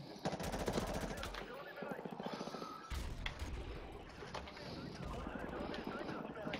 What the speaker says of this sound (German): der hat mir in den Bauch geschossen